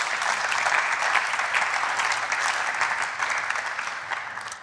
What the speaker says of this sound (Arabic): صفقوا لي عليها